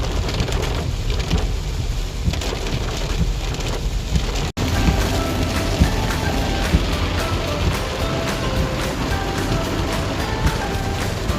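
Heavy monsoon rain pours in Goa, a dense continuous roar with wind buffeting the microphone and a brief dropout midway.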